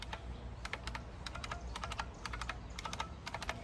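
Rapid clicky keystrokes on a Unicomp mechanical keyboard, a quick irregular run of sharp, close clicks at steady volume with no talking.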